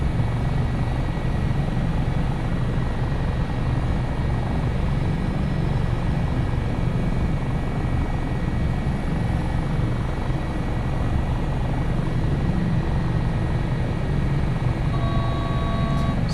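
An HH-65 Dolphin helicopter in Microsoft Flight Simulator 2024 gives a steady, loud, dense rotor and turbine roar that holds unchanged throughout, heard from close by with no talk.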